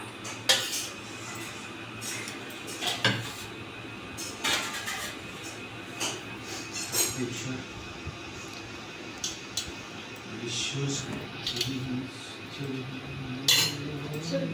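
Rice and vegetarian dishes are served onto plates for a home lunch, with repeated close clinks of cutlery and dishes against plates at an irregular pace over a low steady background.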